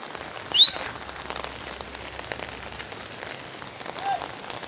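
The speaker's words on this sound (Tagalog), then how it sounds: "Ulan." Steady rain patters across the surface, a constant hiss of drops close by, with a brief bird chirp near the start.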